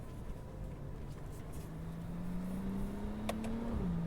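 A tuned 2010 Porsche 911 Turbo 997.2 with PDK and intercooler upgrades drives along with a low engine hum, its pitch slowly rising under acceleration, then dropping briefly at a shift, heard from inside the car, faint.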